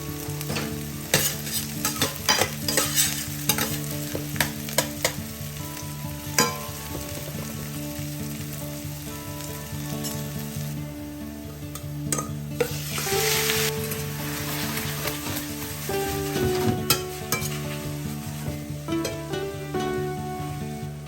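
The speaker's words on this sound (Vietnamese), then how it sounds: "sau đó bỏ cua vào xào." Steamed crab meat stir-fried in hot oil with shallots, a steady bright sizzle with scraping stirs and clinks of the utensil against the pan, close and continuous with no talking.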